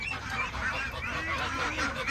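Young ducks and ducklings call continuously in a crowded brooder pen near a feeder, a dense chorus of overlapping honking and peeping with no pauses.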